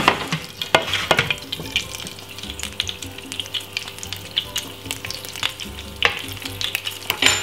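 Bacon frying in a pan, a close, steady sizzle with frequent sharp pops and crackles and scattered louder spits throughout.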